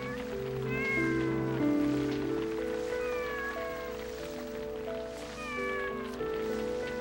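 Mother cat with a litter of five newborn kittens, several rising and falling meows repeating through the clip over steady low background music, with no talking.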